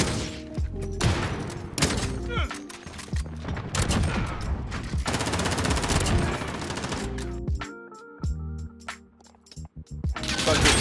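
Rapid automatic gunfire in the video game Modern Warfare crackles in dense repeated bursts, loud and close, with brief pauses between volleys and a short lull near the end.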